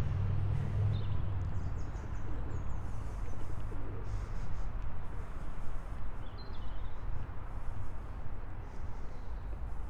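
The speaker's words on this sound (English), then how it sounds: "I'm hoping you can hear the bird song behind me" Birds calling in a garden in central London near Kensington Palace, with soft cooing and scattered chirps set against a constant low city rumble.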